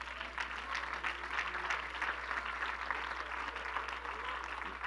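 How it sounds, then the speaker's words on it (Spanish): A church congregation claps for the Lord in a dense, even run of applause lasting several seconds, moderately loud with a low steady hum underneath. "¿Por qué no dar un aplauso al Señor tantito?"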